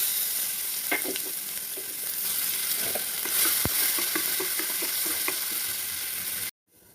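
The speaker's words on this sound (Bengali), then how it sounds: "থেতো করা রসুন দিয়ে দেবো।" Crushed garlic fries in hot oil with nigella seeds while being stirred, a steady close sizzle with scattered light scrapes and taps. The sound cuts off abruptly near the end.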